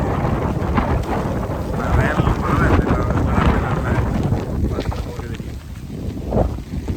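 Gusty wind during a heavy rainstorm in Madduvil village buffets the microphone in loud, uneven rumbling bursts, easing near the end, with someone talking over it.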